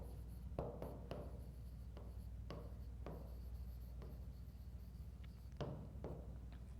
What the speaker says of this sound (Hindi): ये सेंटेंस मैंने एक बार पहले भी लिखा था, आज दोबारा लिख रहा हूं।